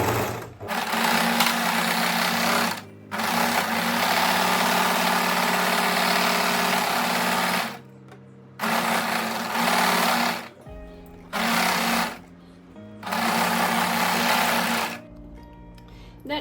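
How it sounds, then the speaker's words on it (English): An overlocker sews across the bottom edge of a blouse in several long motor runs with a steady high buzz and hum, broken by short pauses between bursts, close and loud, with no talking. "we're going to overlock it across this entire bottom edge"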